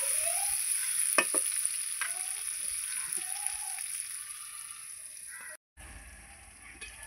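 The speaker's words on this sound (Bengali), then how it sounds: "দিয়ে ভালো করে আমি নেড়ে চেড়ে আলুটাকে আমি ভাজতে দেবো।" Potatoes and onion fry in a pan with a soft, steady sizzle and occasional scraping stirs, close by under a constant high hum, briefly cutting out near the end.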